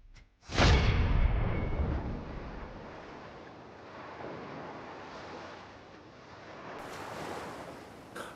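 Ocean waves crash in with a sudden loud surge, then wash and roll steadily with wind noise, receding and swelling again with no talk.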